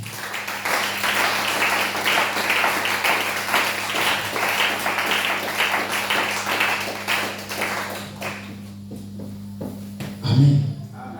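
A church congregation in Abidjan applauds together, a dense rhythmic clapping that carries steadily for about eight seconds before thinning out, with a low steady hum beneath and a brief voice near the end.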